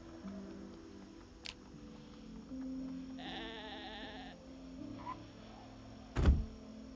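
Sheep in Project Zomboid bleat in a few short, wavering calls at moderate distance, separated by quiet ambient hum and a sharp thump near the end.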